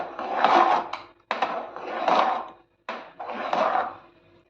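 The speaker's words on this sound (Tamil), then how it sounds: "எல்லாத்தையும் நல்லா கிளறி கொடுத்துக்கலாம்" A spoon scrapes through a thick rice mixture with curry leaves in a pan, in three slow, separate strokes with short pauses between them.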